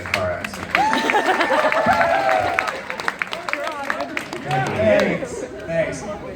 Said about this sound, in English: applause for everybody who's been in a car accident.